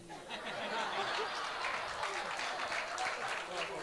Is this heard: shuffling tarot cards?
no